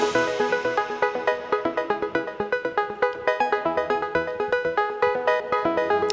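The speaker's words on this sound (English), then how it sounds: "I put all the synthesizers in one singular bus." Layered synthesizers summed on a single bus play a dense, busy electronic jam with a steady pulsing rhythm of sharp repeated notes and sustained tones, loud and continuous with no voices.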